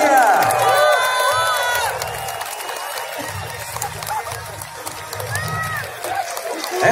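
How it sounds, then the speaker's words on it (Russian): A crowd claps and cheers at the start of the Flame of Peace torch relay for the European Games in Brest, Belarus, a loud outdoor wash of applause with whoops and shouts rising and falling. "Давайте поддержим бурными аплодисментами и возгласами."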